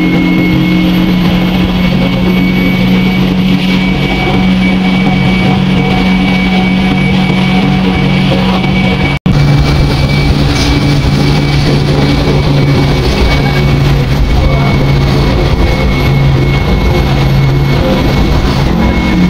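Loud, continuous whine and roar of a Mercedes-Benz intercity bus engine on the road from Dhaka to Khulna, a steady jet-like hum with low rumble throughout, heard from inside the bus.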